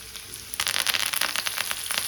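Curry leaves dropped into hot oil with browned garlic, bursting into a rapid crackling sizzle that starts abruptly and keeps spitting and popping up close.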